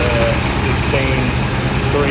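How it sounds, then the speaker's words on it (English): A car engine with an exhaust leak runs steadily, a loud continuous idling rumble with no gaps. "We do have the exhaust leak"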